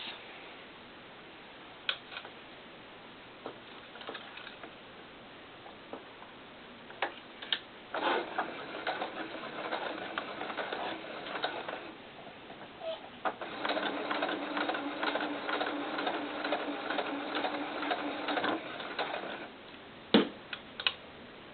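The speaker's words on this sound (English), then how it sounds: "let me go ahead and sew that across" A home sewing machine runs in two sustained stitching passes across a doll coat, a fast close mechanical whir with rhythmic ticking, preceded by scattered clicks and handling noises and no speech.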